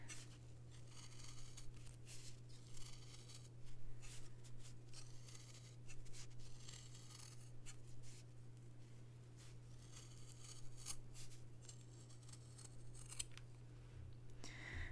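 Sharp paper scissors snip steadily through paper in a quiet room, with soft, rapid cuts running continuously over a low background hum.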